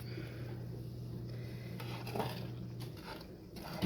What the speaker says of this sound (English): And now we stir some more.